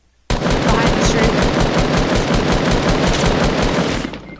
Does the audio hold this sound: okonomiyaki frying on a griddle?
no